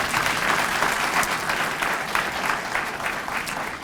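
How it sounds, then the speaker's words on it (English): A large audience applauds a speaker at a university MLK convocation, sustained dense clapping from a full hall that holds steady for several seconds, with a faint murmur of the crowd underneath. "Let's give her another round of applause."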